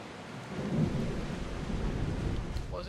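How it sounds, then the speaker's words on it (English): Thunderstorm at sea in Assassin's Creed Odyssey, a steady roar of rain and rumbling thunder filling the whole stretch at moderate loudness, with no talk over it. "This might be the first ever proper storm I've seen on this game."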